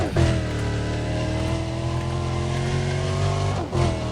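A black-painted car in Need for Speed: Undercover accelerates hard during a sprint race, its engine a loud, sustained rising drone with a brief dip near the end as it shifts, without voices.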